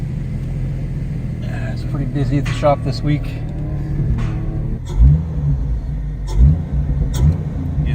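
A Jeep Cherokee XJ fitted with a sport air filter idles with a deep rumble. Two brief throttle blips rise sharply above the idle, while someone talks over the engine.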